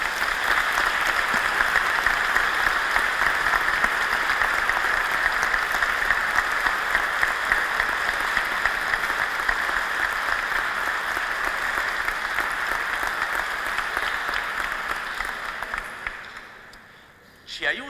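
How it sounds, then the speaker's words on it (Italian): A church congregation gives sustained applause during Mass, a steady, even roar of many hands clapping that holds for over fifteen seconds and then fades out near the end. "Penso che possiamo fare un applauso anche a loro."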